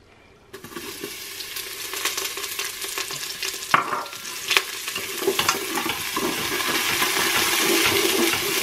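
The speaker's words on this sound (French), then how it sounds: "Je vais faire revenir un oignon jaune que j'ai ciselé" Chopped yellow onion hits hot oil in a Cookeo multicooker pot and sizzles steadily, with scraping stirring strokes and a few clinks as the frying grows louder and denser, no talk.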